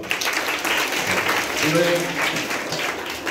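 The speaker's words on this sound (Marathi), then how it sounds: "टाळ्या वाजवा" Schoolchildren clap together in a classroom, a dense, loud burst of applause lasting the whole moment, with a voice briefly speaking over it.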